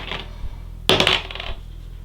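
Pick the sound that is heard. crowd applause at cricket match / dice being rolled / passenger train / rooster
dice being rolled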